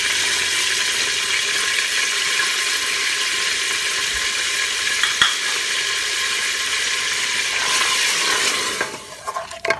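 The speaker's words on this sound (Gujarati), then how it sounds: "હવે હું નાખી દઈશ અંદર આપણું ડુંગળીનું મિક્સચર, ડુંગળી, મરચું અને લસણ આદું" Onion, chilli, garlic and ginger hit hot oil with cinnamon for a meat and potato curry, a steady loud sizzle and crackle that runs for several seconds before suddenly dying down.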